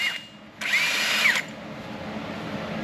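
A power tool spins a Ford's wheel nut off its stud in one short whirring burst under a second long, fairly quiet and alone.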